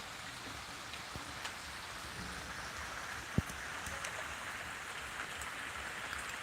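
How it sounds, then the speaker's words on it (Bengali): Steady monsoon-season rain falls in a continuous hiss after a hot spell, with one sharp nearby drip or tap standing out partway through. "এত গরমের পরে বৃষ্টিটা চলেই এসেছে"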